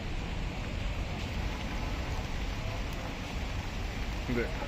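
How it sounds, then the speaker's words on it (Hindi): Steady broadband hiss of rain falling, continuous and even throughout, with no distinct drops standing out. "देखो कि बारिश हो रही है"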